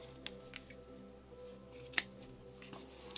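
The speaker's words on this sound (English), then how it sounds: "I'm going to cut a long enough tail so that I can weave in the ends." Scissors snip a yarn tail on a hand-knitted chunky beanie, one sharp close cut standing out above quiet room hum with a few softer handling clicks around it.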